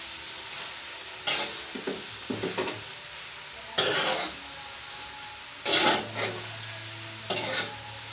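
Bihon rice noodles stir-fried in a pan, a steady sizzle with repeated scraping strokes of a utensil, close and clear with no talk.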